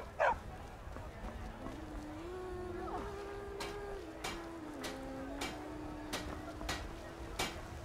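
A dog in the video game Skyrim barks several times in short, moderately loud yips over an ambient background, with a voice speaking briefly.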